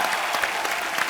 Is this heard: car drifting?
no